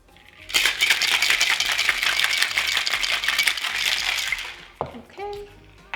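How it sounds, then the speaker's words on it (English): Cocktail shaker holding ice, lemon juice and rosemary-infused simple syrup shaken hard, a loud rapid rattling of ice for about four seconds, followed by a brief clink and a quieter pause. "Gonna give it a shake."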